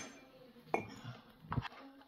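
A spoon dips into cocoa powder, giving two light clinks against a mug about a second apart. The room is otherwise quiet.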